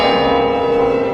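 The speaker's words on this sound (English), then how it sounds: "The mellifluous sound of bells across the river of time resounded again in the Kremlin" Church bells ring out in the Kremlin in a film scene, a loud, sustained resonant peal with layered ringing tones filling the whole moment without any voices.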